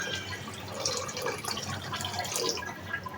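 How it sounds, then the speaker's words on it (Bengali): Water poured into a pot of dal with green chillies gives a soft, steady trickle with light dripping, faint and close, with no voices. "এখন এর মধ্যে দিয়ে দিচ্ছি পরিমাণ মতো পানি"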